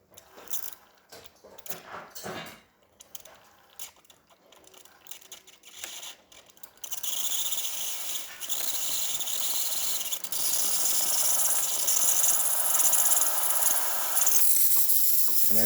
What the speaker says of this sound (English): and we're going to test the steam line.